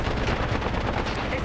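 Rapid, dense gunfire in the video game Apex Legends, loud and continuous automatic shots filling the whole moment with no pauses.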